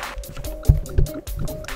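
Water splashes and gurgles on a water slide in the video game Goat Simulator, a few short wet plops and squishy splashes over a low watery background, close and brief.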